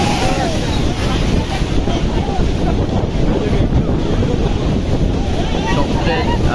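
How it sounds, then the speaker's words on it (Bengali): Rough sea whipped up by a low-pressure system pounds the beach at Kuakata, a loud unbroken roar of surf and wind buffeting the microphone, with no break in the churning noise. "সমুদ্রে নিম্নচাপ সৃষ্টি হওয়ার কারণে সমুদ্র প্রচুর উত্তাল দেখা যাচ্ছে, প্রচুর ঢেউ"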